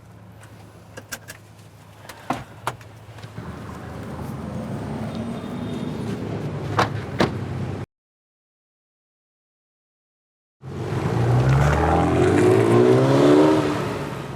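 A car accelerating and pulling away, its engine rising steadily for several seconds before a sudden cut to silence, then a burst of louder engine and road noise resumes near the end.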